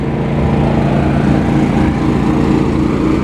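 A Hotsy portable diesel-fired pressure washer with electric start runs its engine, a loud steady droning rumble close by with no break.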